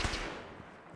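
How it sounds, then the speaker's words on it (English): A gigantic explosion in Fallout 4 hits with a sudden loud boom at the start, then a broad rumbling roar decays steadily over about a second. "Gigantic explosion."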